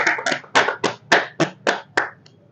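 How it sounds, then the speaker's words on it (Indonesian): Hands clap together in a slow, deliberate run of about seven distinct, close claps at roughly even intervals, fading out with a faint tap at the end. "tangan dulu untuk ABK kita guys"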